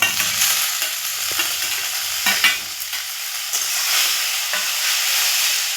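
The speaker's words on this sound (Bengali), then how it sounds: "নাড়াচাড়া করে নিচ্ছি।" Boiled Maggi noodles tossed with browned onion in a hot pan give a steady, close frying sizzle with intermittent scraping stir strokes of a spatula, loud and alone without talk.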